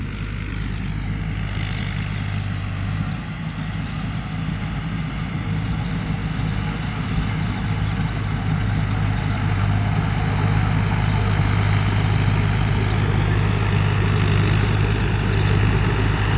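A lightweight rice combine harvester's engine runs steadily at close range, a loud, even drone that holds throughout with no talk over it.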